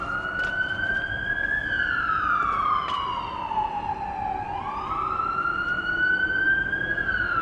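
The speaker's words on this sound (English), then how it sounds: "We got helicopters and police sirens, of course." A police siren wails continuously outdoors, its pitch sweeping slowly down and back up in long cycles, loud and steady throughout with no break.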